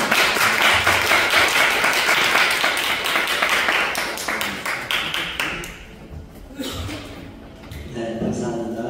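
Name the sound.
audience applause welcoming a speaker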